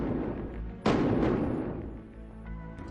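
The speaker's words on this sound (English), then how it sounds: "gunshots." A single sharp gunshot-like crack rings out, followed by a decaying reverberant tail, somewhat distant and muffled.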